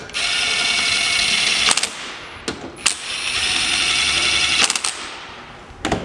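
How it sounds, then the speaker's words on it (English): An impact wrench runs down the four crank bolts on a V-twin stroker crank install, giving two long, steady rattling bursts broken by short sharp clacks and bumps, close and loud with no talking. "I always just take the impact, we'll run them down snug."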